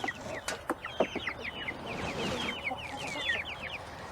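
Many chickens clucking and chattering together in a busy chorus, with a few sharper squawks standing out, no voices.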